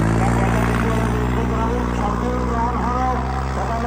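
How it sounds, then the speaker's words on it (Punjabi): A loud, steady tractor engine drones at a Bilga tawian pulling competition, a deep continuous rumble with a commentator talking over it throughout. "ਹਲਵਾਰਾ ਸੀਟ ਵਾਲਿਆਂ ਦਾ ਟਰੈਕਟਰ ਮੰਗਲ ਵੱਲ ਵੱਧਦਾ ਜਾ ਰਿਹਾ"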